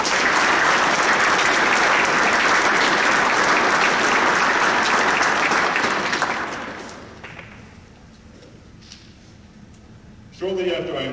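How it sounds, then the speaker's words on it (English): A large school audience at a Veterans Day assembly breaks into loud, sustained applause that tapers off after about seven seconds. A speaker's voice then comes in close over a quieter room. "So please give them a round of applause as well."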